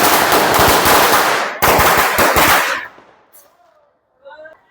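Rapid crackling bursts of celebratory firecrackers at a cricket-win party, loud and dense for nearly three seconds with a brief gap, then fading to scattered faint pops and distant noise.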